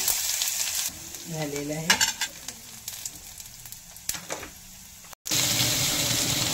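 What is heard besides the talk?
mustard seeds, cumin and garlic-ginger paste frying in hot oil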